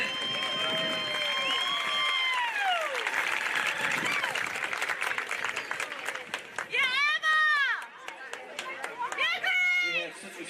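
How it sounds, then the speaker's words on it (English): A crowd at a bowl game applauds cheerleaders after their performance, with sustained clapping and scattered cheers under loud voices, crowd chatter and shouting. "Give these young ladies a big hand of applause, would you?"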